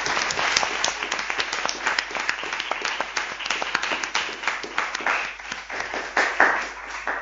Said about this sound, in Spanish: Os pido un aplauso a todos los ponentes que han participado